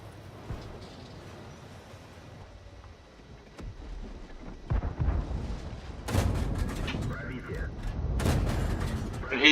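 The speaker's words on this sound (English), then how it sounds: "That T-28, just look at the rate of fire on this gun." T-28 tank gun fire in a video game, with scattered booms and heavier bursts of rapid firing later on, set under ongoing commentary and background battle noise.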